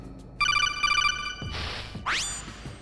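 Telephone ringing in the video game Metal Gear Solid: a loud electronic ring repeats in two quick bursts and then stops, followed by rustling and a rising electronic sweep.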